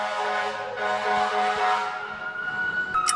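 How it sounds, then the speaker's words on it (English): A fire truck siren wails in rising and falling sweeps, fairly loud and close, with traffic rumble beneath and a sharper tone near the end. "It's a fire truck."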